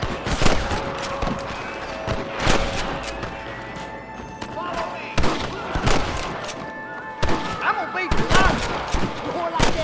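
Bursts of gunfire from a shootout at Pike Station in Red Dead Redemption, with sharp shots and rapid volleys recurring throughout, some loud and near, over game ambience and faint voices.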